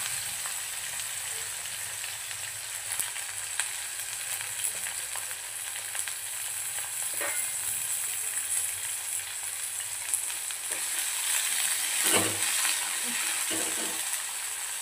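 Onion frying in oil in a pan while cooking a chicken curry: a steady, even sizzle and crackle throughout, with a few soft scraping stirs near the end.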